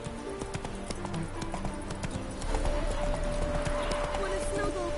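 A horse trots in The Witcher 3, its hooves clip-clopping in a quick, steady rhythm that grows slightly louder midway, with game sounds and voice-like noise mixed underneath.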